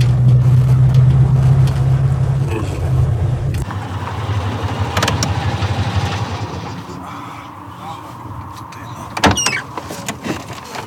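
A Fiat 126p Maluch strains uphill in second gear on a mountain road in Turkey. Its small engine drones close and loud, the tone shifts as it labours, and sharp rattles and knocks break through near the end.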